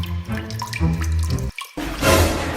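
Tap water runs into a sink for a drink, a steady broad rush that briefly cuts out and then returns louder, close and alone with no talk.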